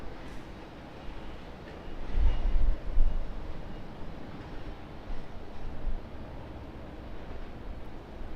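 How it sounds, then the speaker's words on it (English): A Garuda Indonesia Airbus A330 departs Sydney Airport in strong wind, a distant, steady broadband jet roar that swells around the middle with gusty low rumble throughout, and no voices. "Garuda, Indonesia, Airbus A330 battling the winds out of Sydney"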